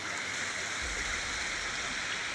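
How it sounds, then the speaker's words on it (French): Small river flowing through the Morvan countryside, a soft steady rush and gurgle of water heard from nearby, with no other sounds. "tu vois une super petite rivière qui va bien"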